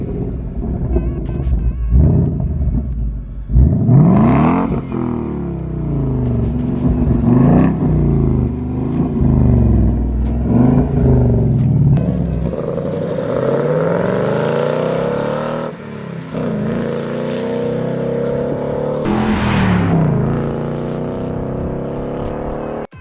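Supercharged 5.2-liter V8 in a 2020 Ford Mustang Shelby roars loud and close, with several hard revs and surging acceleration pulls that rise and fall, sustained throughout without talk.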